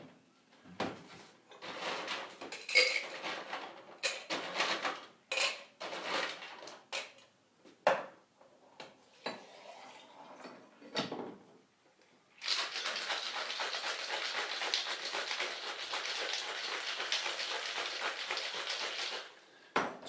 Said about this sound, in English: So we're going to shake this whole shebang with some ice.